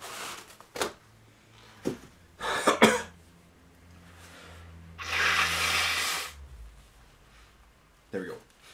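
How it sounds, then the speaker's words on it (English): Someone blowing their nose, a loud, sustained honking blast of about a second, with short coughs, throat clearing and a brief sniff before and after. "So I'm just going to blow my nose quickly. I apologize if it's loud,"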